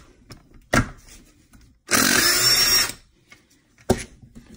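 A power tool, likely an impact gun, runs in one loud sustained burst of about a second, spinning out a 14mm reverse-gear bolt on a 2012-2015 Honda Civic Si K24Z7 transmission case, with brief knocks before and after.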